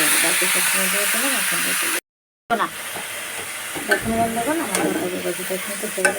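Onions fry in a pan for cabbage bhaji, a steady bright sizzle and hiss with stirring scrapes, a brief cut-out midway, while someone talks over the cooking.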